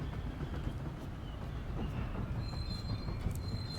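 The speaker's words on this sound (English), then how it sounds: "They do make you watch the entire cutscene of the train pulling in" A train in the video game Paper Mario: The Thousand-Year Door rumbles and clatters as it rolls into a station, with metallic wheel squeals and faint high whines rising near the end, steady and fairly close.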